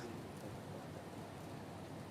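Heavy monsoon rain pours down in Mumbai, a dense, even hiss of downpour on surfaces, steady and unbroken with no voices.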